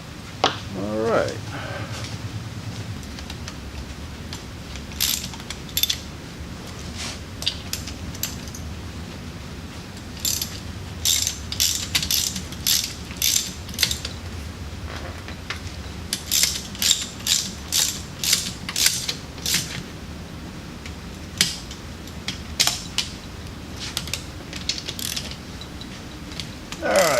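A ratchet wrench snugs engine mount bolts during a car restoration, with rapid bursts of sharp clicking that repeat in quick runs against a background hum.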